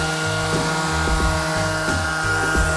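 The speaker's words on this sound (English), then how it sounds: "run your sander with the grain as opposed to across it" A power sander drones steadily on wood, run with the grain, its motor whine punctuated by repeated rhythmic pulses as it's pushed back and forth, loud and close.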